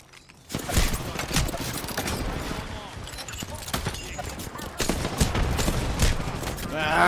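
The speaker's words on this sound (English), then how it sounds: "They're firing on me." Rapid bursts of gunfire ring out in a first-person shooter video game, sustained and dense for several seconds with repeated sharp cracks, while a voice speaks over the shooting.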